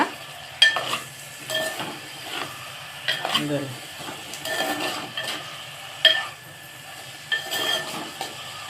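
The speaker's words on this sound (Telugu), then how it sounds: "మెత్తళ్ళు అలా నీట్గా ఫ్రై అవనివ్వాలి కొంచెం సేపు" Small mettallu fish frying in a pan of softened onion and tomato for a drumstick fish stew, a steady sizzle broken by intermittent scrapes and clinks of stirring.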